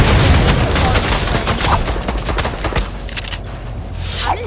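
Video game combat with rapid bursts of loud gunfire and heavy booming blasts, dense and close for the first few seconds before thinning out, with a voice briefly audible.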